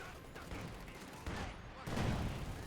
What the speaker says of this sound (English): And Maxim does re-engage against the MG-34.